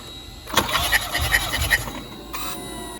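A BMW B48 engine cranking on the starter during a compression test, a short burst of rhythmic whirring cranking followed by a brief second crank, moderately loud with some faint background talk.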